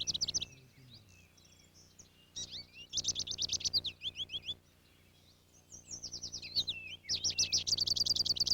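Wild birds chirp near feeders close to a house in a backyard garden sanctuary, with several bright, rapid bursts of tweets and trills coming in clusters separated by short quiet gaps, close and clear with no voices.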